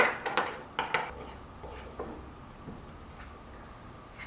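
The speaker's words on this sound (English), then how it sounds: "Just mix it around." A few light clinks of a utensil against a bowl while stirring a vegan tandoori marinade, faint and close, fading into quiet soft mixing.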